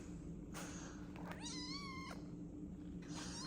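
A cat meows a few times in a quiet garage where a crew cab truck is being worked on, the calls close and clear over a steady low background hum.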